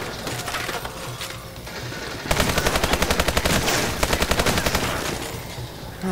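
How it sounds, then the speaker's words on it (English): Gunfire in the zombie shooter ExoZombies, with a shotgun among the weapons: dense game combat noise that bursts into a loud, rapid series of shots midway, continuing in quick rhythmic volleys. "that shotgun scared the bejesus out of me"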